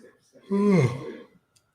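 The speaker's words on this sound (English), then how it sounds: "That was a great yawn, that." A person yawns during a live football watch-along, one drawn-out voiced yawn rising then sliding down in pitch, close to the microphone, followed by quiet.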